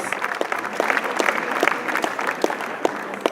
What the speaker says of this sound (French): Je voudrais qu'on puisse applaudir la famille Corbucci, qui est ici présente.